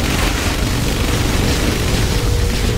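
A Tomahawk missile launch explosion in the Shockwave video game sounds as a loud, unbroken rumbling boom, with thick low-frequency energy and a noisy hiss spread evenly across the short burst.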